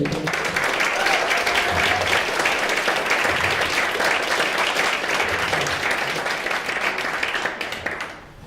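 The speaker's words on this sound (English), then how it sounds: "Give them another round of applause." Sustained applause from an audience for a discussion panel, dense and even clapping that holds for several seconds before tapering off at the end.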